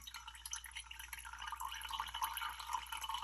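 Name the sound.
coffee draining through filter for cold brew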